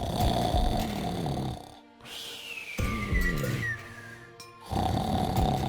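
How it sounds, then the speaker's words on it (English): The mayor snores loudly in the point-and-click adventure game Deponia, two long rumbling snores separated by short silent gaps, with a descending whistle-like game sound in between. "Snoring away, of course."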